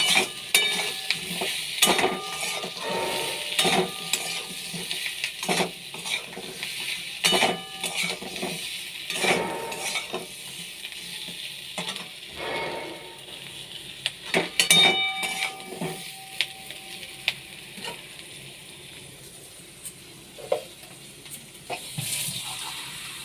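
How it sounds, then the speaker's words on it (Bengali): Spices sauté in a pan for a fish curry with a soft sizzle, broken by irregular scraping and clinking of a spoon stirring against metal. "একটু ভালো করে কষিয়ে নেওয়ার পরে আমি এতে জল ঢেলে দেব।"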